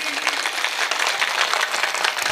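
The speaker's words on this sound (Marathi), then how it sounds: "पहिल्यांदा पुरुष मंडळी टाळी वाजवतील" Men in the audience of a devotional kirtan led by Haridas Maharaj Palve clap together in a loud, dense, continuous crowd clapping that stays steady from start to end.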